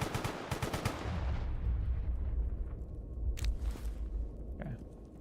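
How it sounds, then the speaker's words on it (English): STALKER: GAMMA game combat with rapid bursts of gunfire and booming explosions up front, then a few scattered, more distant shots and blasts as the firing trails off, no talking. "who are they shooting at?"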